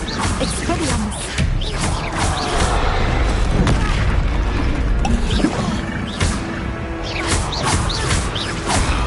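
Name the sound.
Expelliarmus disarming spell cast, Hogwarts Legacy video game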